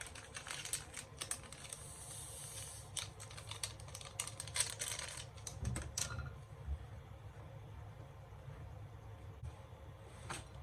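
Dry flour, other dry ingredients and yeast are stirred together in a bowl, giving quiet, rapid scraping and rustling strokes close up that stop about two-thirds of the way through, leaving faint background noise.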